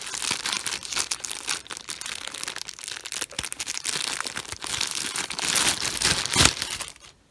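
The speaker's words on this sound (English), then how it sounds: "Let me go ahead and take off her plastic baggy hair" A plastic bag crinkling and rustling up close as it is pulled off a fake Blythe doll's fantasy hair, continuous crackling handling noise that swells toward the end, no talking.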